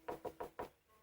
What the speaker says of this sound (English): knocked on her door